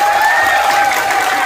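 Pageant audience applause at a Miss Gay contest in Canda Ilaya, a dense, steady wash of clapping with sustained tones running underneath, filling the short stretch without pause.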